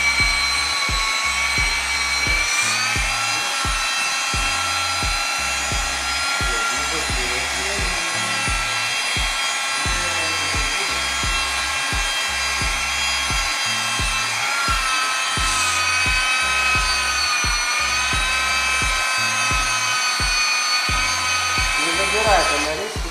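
Rotary polisher with paste smoothing out a paint run on a car panel, a steady close whine with rhythmic low thumps, while people talk throughout.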